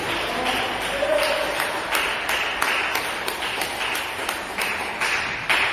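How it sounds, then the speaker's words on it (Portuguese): A church congregation claps for Jesus in steady, rhythmic bursts, a lively beat of many hands sounding through the room, with a voice carrying over it. "Desocupe a tua mão e dê uma salva de palmas bem alegre para Jesus."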